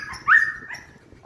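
A young dog lets out a single sharp, high bark up close, followed by a softer trailing yelp.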